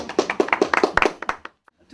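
Scattered hand clapping from a small studio audience during a live radio broadcast, sharp distinct claps in a quick uneven rhythm that thin out and stop, leaving near silence.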